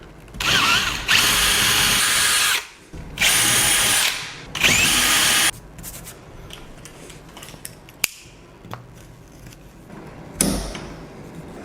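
A power drill bores through a wooden barn door in three loud, sustained bursts, each run lasting about a second, followed by quieter clicks, taps and handling noises.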